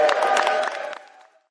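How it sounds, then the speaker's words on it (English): A crowd cheers and applauds for two state legislators, Senator Marcus Riccelli and Representative April Berg, at a public event. The sound is a dense burst of clapping and whoops that fades out within about a second and a half. "Give them a huge round of applause."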